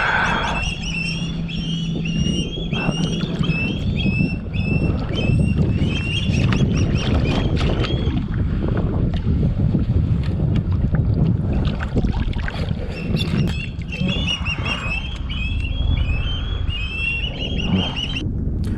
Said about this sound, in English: now I'm using the trolling motor to create the perfect drift